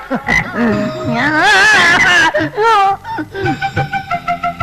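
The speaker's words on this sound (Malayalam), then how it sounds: "തവള പോലൊരു സാധനം" Frog croaking in a scene from a Malayalam feature film: loud, warbling, throaty calls that give way to a run of short, rhythmic croaks toward the end.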